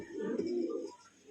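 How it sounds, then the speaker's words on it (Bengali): Pigeons on a pigeon farm give a soft, low cooing call that rises and fades over about a second, near and fairly quiet, with no talk. "আরো একজোড়া কবুতর আছে, এটা ব্ল্যাক বিউটি"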